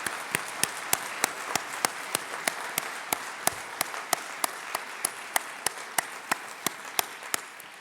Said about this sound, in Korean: 우리 다시 한번 뜨거운 박수 한번 부탁드립니다.